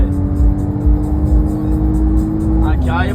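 A Porsche Cayenne engine revs loudly and close, holding a steady, throaty drone before the pitch dips, with a brief voice near the end.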